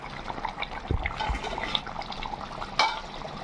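Crab curry simmering in a covered pot, bubbling with a steady soft liquid burble and a few brief louder pops, close by with no voices.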